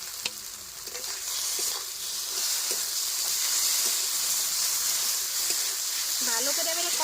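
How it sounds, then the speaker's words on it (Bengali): Onions already fried with salt and turmeric now sizzle in a pan with ridge gourd peels, giving a steady close hiss with occasional stirring scrapes and a brief voice near the end. "ভালো করে এবারে কষায় নেবো, একদম শুকনো শুকনো করে নেওয়া অবধি।"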